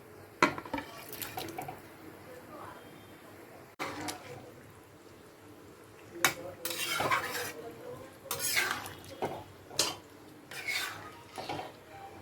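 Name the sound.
fried duck eggs and cauliflower added to boiling curry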